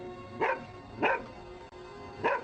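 A dog barks three times in a movie scene, loud single barks at a steady spacing with a pause before the last, against a faint background hum.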